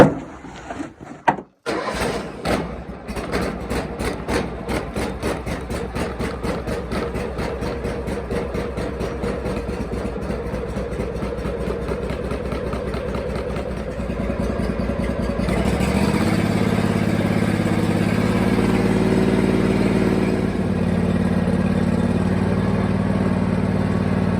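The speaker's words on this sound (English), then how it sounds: "Very pleasant tractor to drive, and I've got it throttled back right now" Cub Cadet XT3 Enduro lawn tractor with a 22.5-horsepower engine and a 50-inch deck, starting up with a few quick sputters and then running throttled back in a steady, rapid putter that grows louder and fuller midway.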